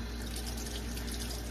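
Tap water runs steadily into a sink bowl, a close, continuous splashing rush with no voices.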